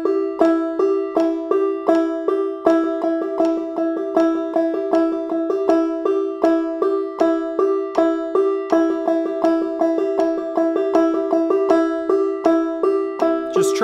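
A banjo picks a repeating home measure at 80 BPM, then doubles it, with steady, bright plucked notes that ring out in an even rhythm, loud and close, with no voice.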